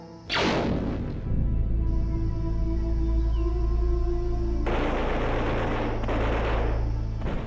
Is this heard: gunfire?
yes